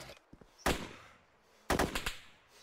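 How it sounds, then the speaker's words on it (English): Gunfire in the video game DayZ during a castle assault: two sharp bursts of rapid shots about a second apart, fairly close, with quiet between them. "Am I hearing gunfire already?"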